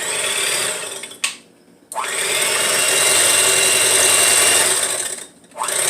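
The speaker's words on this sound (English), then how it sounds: "I tend to use my mixer" An electric hand mixer beating almond milk French toast batter, a steady high whirring buzz that cuts out briefly twice and restarts, close and alone without talk.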